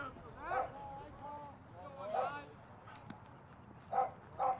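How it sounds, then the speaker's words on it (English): Two dogs bark at a baseball game between Brookdale and Ocean County College, sounding in short distant bursts separated by gaps while an announcer talks over them. "We might have 2 dogs now. Seems that they're going at it a bit."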